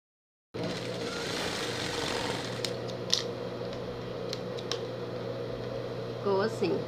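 A sewing machine hums steadily while topstitching a fabric pet carrier, running continuously after a silent start, with someone talking over it and a few faint clicks.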